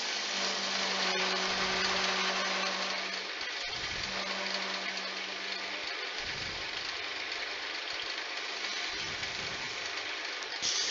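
A wood lathe spins a long candlestick blank on its spindle with a steady motor hum, broken by repeated bursts of a tool cutting and cleaning the wood surface.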